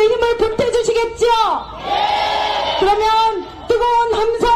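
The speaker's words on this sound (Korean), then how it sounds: "뜨거운 환호로 이재명 당대표가 그동안 보여주셨던 것보다 훨씬 더 강렬한 연설을 하실 수 있게 힘을 보태주시겠죠" A crowd at a political rally for the Democratic Party leader Lee Jae-myung shouts and cheers in a loud surge between stretches of an amplified announcer's speech.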